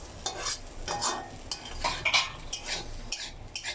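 Potato fry being stirred and mashed in a pan with a utensil: close, repeated scraping and tapping strokes in an uneven rhythm, with a faint sizzle underneath.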